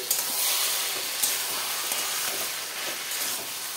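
Shrimp cook in a pan of vegetable curry made with stems, giving a steady, moderate bubbling sizzle and hiss with faint stirring ticks, no voices.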